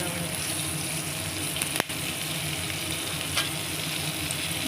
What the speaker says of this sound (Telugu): ఇలా బాగా ఫ్రై అయినాకండి ఇప్పుడు పచ్చిమిర్చి యాడ్ చేద్దాం